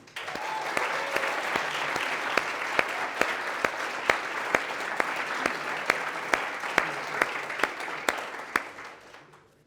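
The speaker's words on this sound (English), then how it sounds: "let's give a big round of applause to Calvin, Hungju, and daughter Katie" An audience at a company headquarters event applauds in a sustained round, dense steady clapping with a few sharp louder claps standing out, holding for about nine seconds before tapering off at the end.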